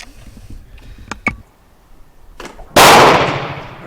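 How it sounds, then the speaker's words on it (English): A rifle fires reloaded 7.62x39 Romanian ammunition at a target: one loud, sharp report with a ringing, fading tail, preceded by a few faint clicks and handling noises. "I'm going to try the same thing with the Romanian, and we'll be shooting on the right-hand target."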